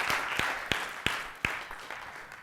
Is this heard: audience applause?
yes